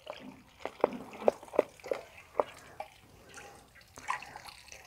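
Water drips and trickles in a short run of distinct splashes as it drains out of a potted plant with no saucer beneath it, the drops fairly close and gaining volume before fading into faint background noise.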